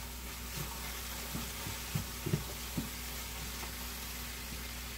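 Onions frying in a pan with salt while a cook makes a stir fry, a soft, low hiss with a few faint clinks and taps from stirring, quiet and continuous with no talking.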